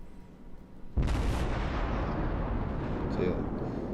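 A Cleveland tier 6 cruiser in World of Warships fires its guns over a landmass on the Two Brothers map: one sudden loud boom, then a long rumbling roll that keeps going, with a voice talking over it.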